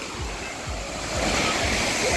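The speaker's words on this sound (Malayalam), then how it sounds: "നമ്മളിത് ഇവിടെ ഒരു വാട്ടർഫാൾ നിർത്തിയതാണ് നല്ല ഫോഴ്സിലാണ് വെള്ളത്തിന്റെ വരവ്" Water crashing down a forceful waterfall at a Munnar trekking and camping spot, a dense, steady roar with low churning pulses that swells louder partway through.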